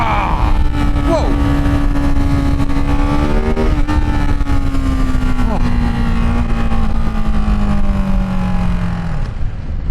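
A Ducati Hypermotard 698 single-cylinder motorcycle holds a loud, steady engine drone with a slowly falling pitch, heard close amid wind rush, with a brief shift-like blip partway through.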